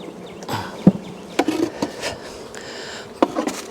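Honey bees buzz around a hive up close, with scattered wooden knocks and bumps against the steady insect hum.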